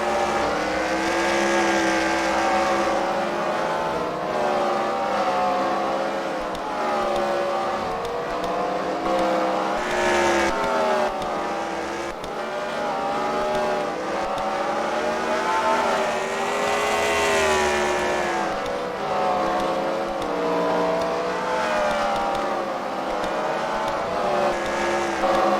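Race cars circling a track in a sim racing league event at The Freedom Factory, engines droning loud and continuous with rising and falling pitch as they run laps, overlapping whines throughout and no talk.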